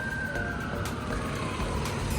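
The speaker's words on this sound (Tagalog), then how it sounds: "May ambulansya." An ambulance siren on Gran Via in Madrid, heard as a steady wailing tone under dense, loud street traffic noise, with no talking.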